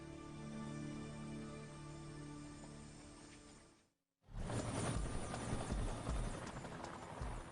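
A Miami-Dade police helicopter hovers over the Everglades swamp at a plane crash site, its steady rotor thrum and engine whine filling the air, broken by a brief gap before returning louder and rougher.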